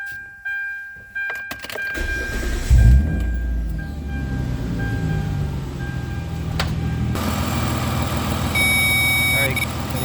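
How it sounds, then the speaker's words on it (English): A Mitsubishi Eclipse needing many repairs starts up close by. A few clicks come first, then the engine cranks, catches and settles into a steady idle, and a high electronic beeper tone sounds later on. "Let me start up the engine."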